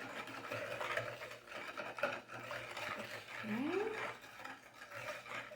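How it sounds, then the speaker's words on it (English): A whisk scrapes and swirls through a batter mixture in a bowl with steady, close rubbing strokes, a brief spoken word over the start. "now I'm going to give it another whisk just to combine everything"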